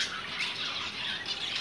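Bengal society finches in a cage give a steady, high, raspy chatter, close and continuous with no pauses.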